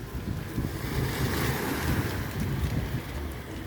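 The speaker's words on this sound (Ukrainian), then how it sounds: "Оце такі волнорізи, а там за ними воно не вчухає, воно таке неспокійне, це море." The restless Adriatic Sea surges against breakwaters off a beach, giving a steady, loud wash of surf and wind noise with no voices.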